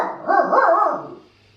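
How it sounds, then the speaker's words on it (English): A dog lets out one short, close bark that fades into quiet. "Trip, don't bark."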